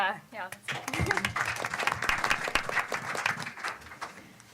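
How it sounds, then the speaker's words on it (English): A civility conference audience breaks into applause, a dense wash of clapping that builds quickly after a voice at the start and holds fairly steady before easing off. "I almost think we should have a round of applause right now."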